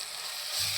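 Ground coconut paste goes into a sizzling Kerala-style seer fish curry with curry leaves, giving a brief, soft frying hiss with a slight low thump as it lands.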